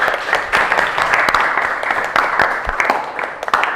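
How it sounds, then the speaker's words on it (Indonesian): Classroom applause during a teaching performance test, with a steady burst of many hands clapping at close range throughout, loud and dense, with a few voices mixed in. "Kasih tepuk tangan untuk kita semua."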